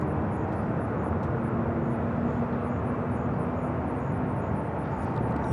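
An airplane taxis at Louisville International Airport with a steady, broad engine roar that holds constant and fairly loud from a distance, a faint high whine riding on top.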